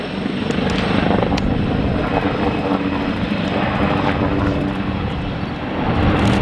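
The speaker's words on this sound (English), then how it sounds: "it is a retractable gear helicopter" A retractable-gear helicopter at the Farnborough Airshow roars loudly and continuously overhead, its rotor and engine noise filling the whole stretch without any talk.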